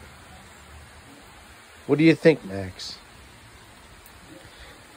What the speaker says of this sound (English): it's nice and windy and rainy and cool out here